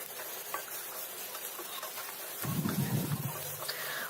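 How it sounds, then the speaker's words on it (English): Onions frying in a tablespoon of oil in a pan for Goan mince croquettes, giving a steady broadband sizzle that swells louder with a burst of stirring near the end. "I'm going to heat 1 tablespoon of oil in a pan, and I'm going to add the onions and fry them till they're nice and translucent."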